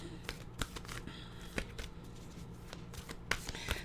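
Oracle cards are shuffled by hand in a series of crisp, papery riffles and slaps, close and fairly quiet, with a few sharper snaps standing out over a soft background murmur.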